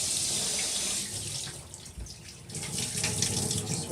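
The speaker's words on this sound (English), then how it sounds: "I'm going to rinse it out with some water." Cold tap water runs and splashes into a Bissell SpotClean carpet cleaner tank in a sink, a steady rushing stream with brief shifts as the tank is moved under it.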